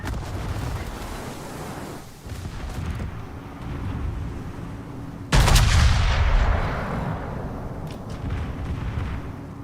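Naval gunfire in the World of Warships video game, heavy booming salvos over a constant rumbling battle background, with one loud close blast midway followed by rolling echoes.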